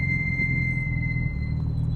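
A car's brakes give a sustained high-pitched squeal that holds one steady tone over a low engine and road rumble, close and loud for the whole two seconds, with no voices.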